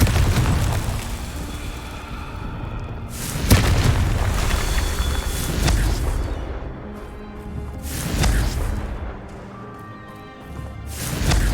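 Confringo fire spell explosions in the Hogwarts Legacy video game, several loud booming blasts with rumbling, crackling tails that recur every few seconds, bursting over a dense game soundscape.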